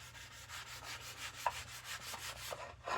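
Hand sanding the wooden stock of a Remington 878 shotgun: a steady back-and-forth rubbing rasp in even strokes, close and fairly quiet, with no talking.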